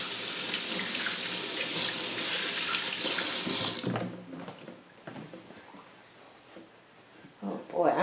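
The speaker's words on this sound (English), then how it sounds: "I just got to rinse my hands off before I touch the camera." Tap water runs loudly over rinsing hands for about four seconds, then cuts off, leaving quieter handling noises and a brief voice near the end.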